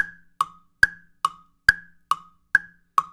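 Jam blocks struck in a slow, even tick-tock rhythm imitate a ticking clock, with eight crisp, dry woody knocks alternating slightly in pitch, close and alone.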